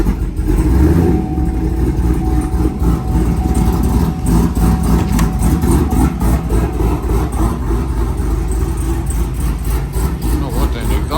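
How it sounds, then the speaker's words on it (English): A cammed Chevrolet Camaro's exhaust idles with a loud, lumpy, steady rumble filling the whole stretch, with no speech over it. "the exhaust sounds good."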